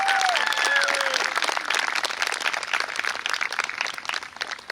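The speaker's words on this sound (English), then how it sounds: "we'll do a round of applause for Drew Goulet" An audience at an 8th grade awards ceremony claps in sustained applause indoors, dense and fairly loud at first and gradually thinning out, with a brief voice at the start.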